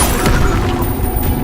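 Glacius ice spell cast in Hogwarts Legacy, a short burst of crackling, crashing energy lasting over a second amid continuous game effects and background sound.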